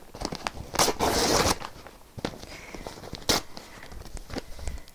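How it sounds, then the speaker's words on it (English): Tearaway embroidery stabilizer being ripped off the back of embroidered felt, heard as close, crisp tearing bursts and crackles in several uneven pulls, with no talk. "Now I'm gonna pop it off the hoop so I can rip the tearaway stabilizer."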